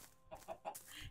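A Minecraft chicken clucks three or four quick, short times in a row, close but quiet.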